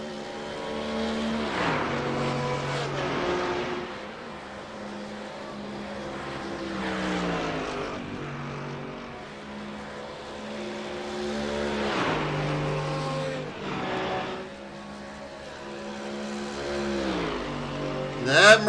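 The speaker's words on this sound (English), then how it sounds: "That Mercedes just sounds mean." A Mercedes GT3 race car engine at the Nürburgring Nordschleife roars through repeated rising and falling revs across several gear changes, loud and continuous, with passing surges that swell and fade.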